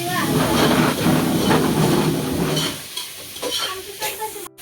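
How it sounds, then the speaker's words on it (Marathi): Onions stirred while frying with tomato and garam masala for biryani: a loud, dense sizzle with scraping stirs for the first few seconds, then a softer crackle with scattered utensil knocks. "कांदा टाकून असं हलवून घ्यायचं आपल्याला. पूर्ण मिक्स करायचं दोन्ही पण."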